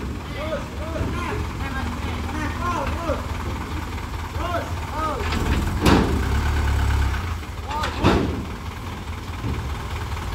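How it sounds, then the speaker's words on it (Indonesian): A modified Isuzu Giga truck engine idles and runs rough, with a loud, uneven mechanical rumble and a couple of sharp bursts as it is revved, while people talk over it. "Berhubung truknya bisa jalan walaupun mesin agak ngoplok"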